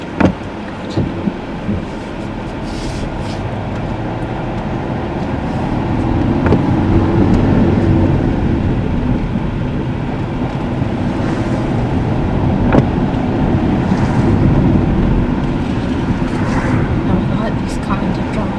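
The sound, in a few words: car driving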